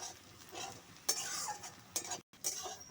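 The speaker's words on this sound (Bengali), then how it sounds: "পেঁয়াজটা আমি লাল লাল করে ভেজে নিয়েছি।" Onions for rui fish curry fry over a low flame, a close soft sizzle with a few scraping stirs of a spoon in the pan and a brief silent gap.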